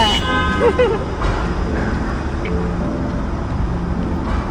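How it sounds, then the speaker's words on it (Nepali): A car horn toots briefly in Toronto street traffic, a short, near honk at the start over a continuous rumble of passing vehicles, with people talking faintly. "यस्तो हर्न त थियो नेपालै गए जस्तो भएको छ"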